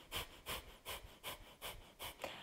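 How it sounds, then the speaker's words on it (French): Rapid, short, forceful breaths pushed out through the nose in a breathing exercise: seven sharp, evenly spaced bursts, close and clear, with no talk. "on expulse l'air en fait vraiment par petits à-coups comme ça"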